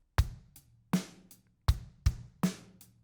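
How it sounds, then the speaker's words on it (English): A slow, steady drum beat in 4/4 with deep kick and snare hits spaced out evenly, each followed by a light cymbal tick, played alone. "and a slow 4/4 will sound like this."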